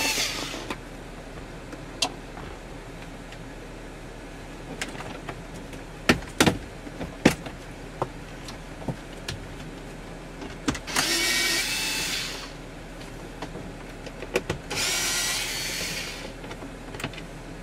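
Two whirring bursts from a driver back out 7-millimeter screws on a Jeep Wrangler panel, amid scattered clicks and taps of handling, nearby and without talk.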